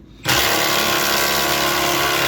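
A power tool, most likely a drill, whirs during rear differential bushing replacement on a BMW E46. It starts abruptly after a brief quiet moment and runs loud and steady, close up, until the end.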